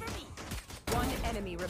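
Gunfire from the shooter game Valorant cracks in a fast burst of shots, mixed with dense game effects and a voice talking over the action.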